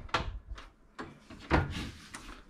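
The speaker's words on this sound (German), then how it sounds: "geht die Tür zu und das Licht geht aus" The door of a household oven is folded shut, giving a few close knocks and thuds with a soft rubbing slide between them, fairly quiet, with no talking.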